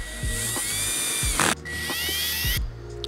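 A power drill set to a low torque drives screws into a battery enclosure in two close, loud bursts of whining motor, each ending in a sharp ratcheting clatter. No voices are present.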